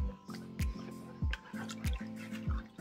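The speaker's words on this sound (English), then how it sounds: "So 1 tablespoon of yeast. I'm gonna stir that." A spoon stirs a tablespoon of yeast into warm water in a bowl while mixing Malawi mandasi (puff puff) dough, giving close, rhythmic clinks and liquid swishes about every half second, with no talking.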